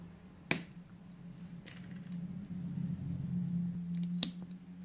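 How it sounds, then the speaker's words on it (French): Scissors snip candle wicks in a concrete bowl candle with a few sharp, faint clicks spread across a few seconds. A soft low hum continues in the background. "maintenant, on va pouvoir couper les mèches"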